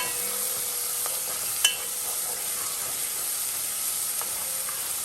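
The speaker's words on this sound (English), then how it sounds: "I'm going to give it a little stir." Oxtails sizzle steadily in a pot while being stirred, a constant loud hiss with an occasional sharp clink of the utensil against the pot, and no voices.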